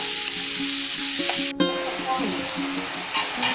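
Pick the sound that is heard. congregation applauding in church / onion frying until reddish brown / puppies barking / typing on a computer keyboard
onion frying until reddish brown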